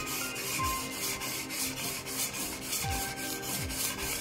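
A knife is stroked back and forth on a wet whetstone in a three-star restaurant kitchen in Kyoto, making steady rhythmic close-up scraping rasps about three per second, with no speech.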